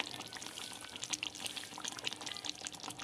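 Thick fish curry with potatoes and coriander leaves, made with saiting fish, poured from a pan: a steady close wet slosh with soft splashes, alone without talk.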